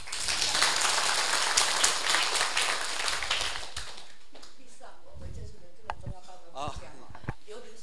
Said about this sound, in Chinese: 你们拍手要。